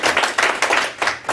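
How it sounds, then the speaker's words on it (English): Short bursts of close hand clapping at a meeting, a few people clapping in uneven clusters for barely over a second. "now a big applause"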